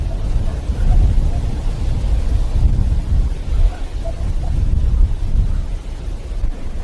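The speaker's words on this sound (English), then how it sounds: "It's raining." Steady rain pours outdoors at a fishing spot, a dense low rumble and patter that fills the whole stretch, with distant thunder rolling underneath and no voices.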